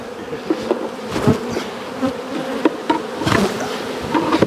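A dense, close swarm of honeybees hums continuously at the hive while colonies are split and smoked, with a few soft knocks mixed into the buzzing.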